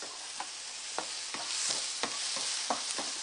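Onions sauté in a nonstick pan, giving a steady soft sizzle broken by light scraping stirs at a regular pace, close and with no talking.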